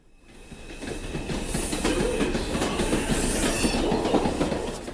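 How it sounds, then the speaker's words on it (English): A train rumbles steadily past at close range, with rhythmic clickety-clack from the wheels, faint metallic squeal and hiss, building quickly from quiet to a sustained loud roar, with no voices. "I'm waiting on the train to go to my friend's house."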